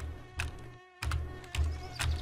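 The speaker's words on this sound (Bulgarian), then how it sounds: "Какви са тия мухи, дето бръмчат, бе?" Flies buzz in the video game My Summer Car, a thin, whining drone that swells and fades in several close passes with brief gaps between them.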